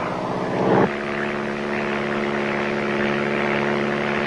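A small propeller plane flies over rainforest, its engine a steady, close droning hum with a strong tonal buzz. A brief louder surge comes near the start, then the drone holds evenly throughout.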